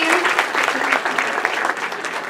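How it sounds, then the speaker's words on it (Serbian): Audience at a cultural event applauding a jury member, a loud, dense burst of clapping from a nearby crowd throughout, with faint voices mixed in. "Molim jedan aplauz."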